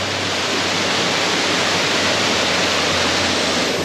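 A waterfall on the Gibb River Road route to Mitchell Falls in Australia roars with a loud, unbroken rush of falling water, close and alone.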